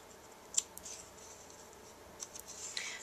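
Scissors trim the scalloped paper edges of a handmade birthday card, giving a few faint, close snips with soft scraping. The cuts are spread across a few seconds in a quiet room.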